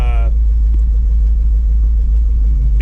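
A Ford F700 salt spreader truck drives off, its engine a loud, steady low rumble close by, with a brief tonal whine at the very start and no talking.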